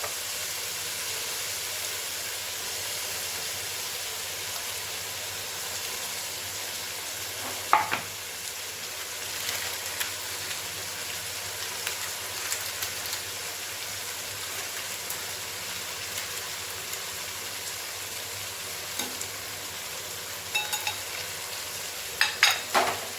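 Vegetables with cauliflower sauté in a pan for vegetable biryani, a steady soft sizzle running throughout with occasional clinks and scrapes of stirring.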